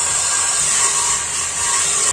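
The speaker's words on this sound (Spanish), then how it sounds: "hacemos este limpiador, lo agarramos con un taladro" A power drill spins a homemade wire-brush cleaner built from a wire brush and two nuts inside a motorcycle exhaust pipe while making silencers for a Honda Shadow 600, giving a steady, loud, continuous whirring hiss with no talk.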